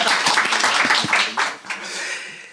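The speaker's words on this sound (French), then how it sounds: "On applaudit s'il vous plaît." Studio audience applause and clapping, a dense burst of handclaps that starts strong and tapers off over a couple of seconds.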